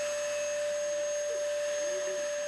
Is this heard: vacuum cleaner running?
yes